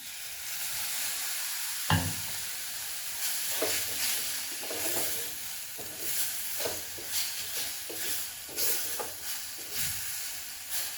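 Beetroot sizzles in a hot pan with a sudden hissing burst as water goes in, followed by scraping stirs at an irregular pace, close up.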